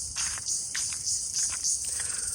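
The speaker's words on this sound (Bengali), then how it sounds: "ঝিঝি পোকা" Crickets chirping in garden trees, a steady high-pitched trill with repeated pulsing bursts, fairly loud and continuous, with faint rustling beneath and no talking.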